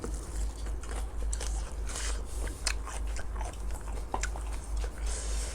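Crisp salad greens eaten alongside spicy Thai papaya salad, bitten and chewed close up with rapid, crackly crunches in an uneven rhythm, over a low steady hum.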